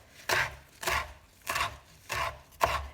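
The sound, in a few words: crushing red garlic cloves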